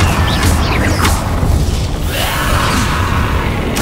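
A Confringo fire spell blasts in Hogwarts Legacy during a fight with inferi, a loud booming explosion with crackling bursts that fills the whole moment at close range.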